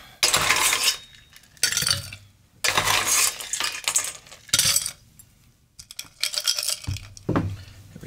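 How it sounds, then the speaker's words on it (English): Ice cubes tumble and clink into a Collins glass in several bursts of bright rattling and clattering, close and loud with no talking. "Put some ice in our Collins glass."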